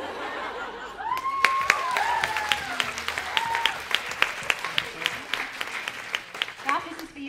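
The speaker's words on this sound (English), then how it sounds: "we can give Garth a round of applause" An audience at a fan festival breaks into applause with sharp individual claps scattered throughout, mixed with some laughter and crowd murmur, moderately loud and close.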